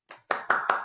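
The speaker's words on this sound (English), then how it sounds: "Big round of applause." Applause breaks out from the audience after a book talk on inventing secularism with author Ray Argyle. Several sharp, close clapping bursts come in quick succession within a second.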